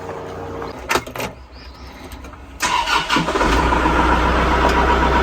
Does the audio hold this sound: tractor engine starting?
yes